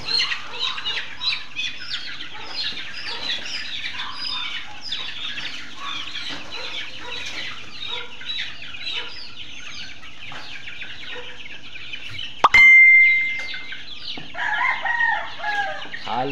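Gamefowl chickens on a game farm cluck and squawk continuously in a busy outdoor flock, with a sharp clank and a short whistle-like squeal near the end.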